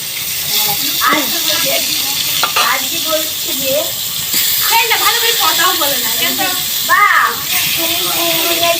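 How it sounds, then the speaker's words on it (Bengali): Eggplant slices frying in oil in a pan on a clay stove, a steady sizzling hiss running throughout while people talk over it. "এই যে বেগুন ভাজি হচ্ছে বেগুন ভাজা হোক"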